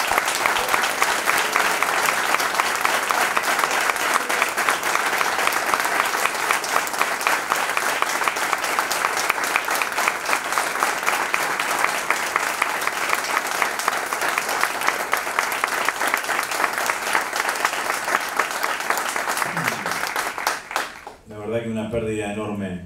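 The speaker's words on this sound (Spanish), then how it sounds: "Pido un fuerte aplauso." Sustained loud applause from an audience at a public talk and debate event, dense steady clapping filling about twenty seconds before tapering off as a voice begins speaking at the very end.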